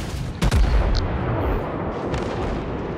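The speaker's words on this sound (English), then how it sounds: "Switching to my high explosive." A World of Warships battleship fires a salvo of high explosive shells. One sharp, loud gun blast opens with a deep boom that fades into a low rumbling tail.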